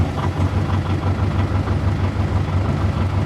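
A boat's diesel engine idling on a sea trial just after starting, a steady low throbbing rumble with an even pulsing beat, close and loud, with no talk.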